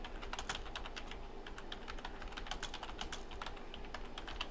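Rapid typing on a computer keyboard, a steady run of close, crisp key clicks with no voices.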